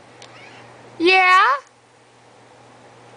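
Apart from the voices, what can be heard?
cat meowing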